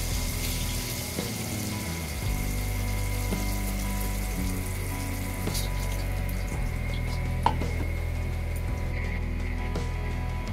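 Fenugreek seeds tempering in hot oil left over from frying fish, a steady close sizzle and crackle with a low hum underneath and a few small clicks, no voices.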